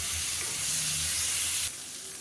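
Shallots and tomatoes sizzle steadily in a hot pan, a loud continuous frying hiss that drops off abruptly near the end.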